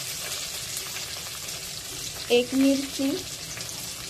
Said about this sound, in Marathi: कांदा परतून घ्यायचा आहे. कांदा मऊ होईपर्यंतच परतायचा आहे